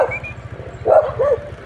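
A dog gives a couple of short barks at a cat over a low rumbling engine idle nearby, in a wooded area of Caloocan, Philippines.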